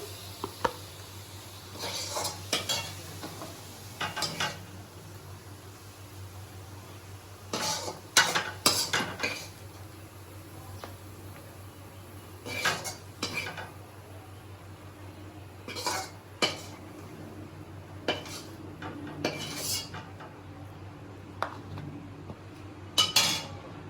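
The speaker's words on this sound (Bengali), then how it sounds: "শাক ভাজা রেডি, এবার আমি তুলে নেব শাকটা।" Fried radish greens scooped out of a pan: intermittent clinks and scrapes of a metal utensil against the pan, with a faint sizzle beneath, close by and spaced out over the span.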